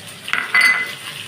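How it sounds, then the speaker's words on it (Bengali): Cut eggplants tipped into a hot pan of frying vegetables, a sharp clatter followed by a brief burst of sizzling and stirring, close and fairly loud. "এবার আমি কেটে রাখা বেগুনগুলো এখানে দিয়ে দেবো"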